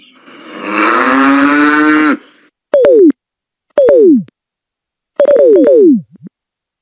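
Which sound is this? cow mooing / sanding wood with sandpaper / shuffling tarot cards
cow mooing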